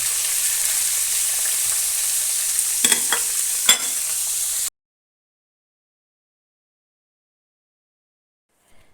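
Chopped chicken fries in coconut oil, sizzling loud and steady for about five seconds with a couple of sharp stirring scrapes, then cutting off to silence.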